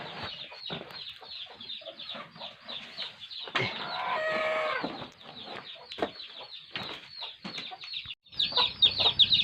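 A flock of chickens on a farm clucks and squawks continuously nearby, with a louder burst of calls in the middle and no talking.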